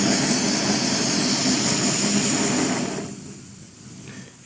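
Snow Peak GigaPower camping stove burner lit with its auto igniter, a loud steady roaring hiss of gas flame close by that eases down toward the end.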